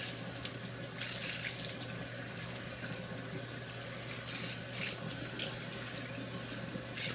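Hot tap water runs steadily into a blender being rinsed out at a sink, a continuous close splashing rush with small shifts in intensity and no talk.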